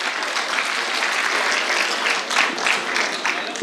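An audience at a shayari recital claps steadily to welcome a poet, a thick, continuous wash of applause at an even level from start to finish.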